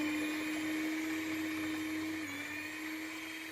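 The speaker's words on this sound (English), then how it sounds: "First, I start with 5 eggs that I'll mix very hard, very thoroughly." Eggs being mixed very hard and thoroughly for a baked custard flan, heard as a steady, loud motorized whir like a hand mixer or blender, close and constant with a slight dip in pitch partway through.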